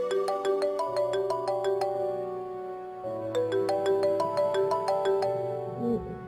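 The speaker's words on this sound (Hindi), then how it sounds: "मेरा ख्याल है मीटिंग वालों का ही फोन आ रहा है।" A mobile phone ringtone plays a bright, repeating melodic tune in an indoor drama scene, sounding twice with a short pause between, clear and fairly close with no talking over it.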